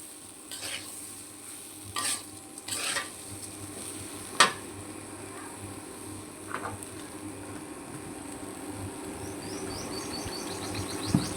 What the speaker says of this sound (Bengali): চাল যত করে সুন্দর করে ভাজা লাল করা যাবে, চালের দলা বেঁধে যাবে